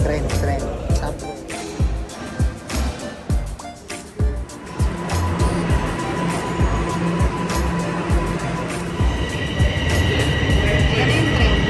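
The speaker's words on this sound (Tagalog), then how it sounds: "Ayan yung train." Train passing through Toronto, a broad rumbling roar with clattering transients that builds and stays loud and steady, with people talking nearby over it.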